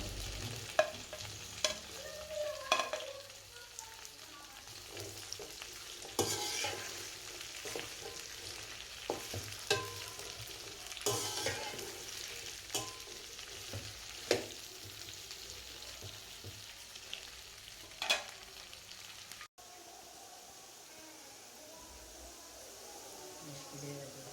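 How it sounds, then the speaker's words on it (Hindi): Okra (bhindi) frying in a pan for a Pakistani bhindi chicken dish, a steady sizzle broken by repeated sharp scraping stirs, loud and close, fading to a quieter hiss near the end. "सबसे पहले हम भिंडी को फ्राई करेंगे।"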